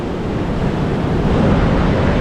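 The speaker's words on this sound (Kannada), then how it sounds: "ಇದು ಧಾರೇಶ್ವರದ ಕಡಲ ತೀರದ ಅಬ್ಬರ ಹೇಗುಂಟು ಯಾವ ಥರ ಇರುತ್ತೆ" Ocean surf roars steadily at Dhareshwar beach, a loud, continuous wash of breaking waves with wind buffeting the microphone and no voices.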